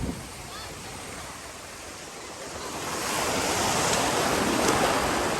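Heavy surf crashing steadily at Camara Island, Zambales, in broadband roar, swelling louder in the second half, with wind rushing over the microphone.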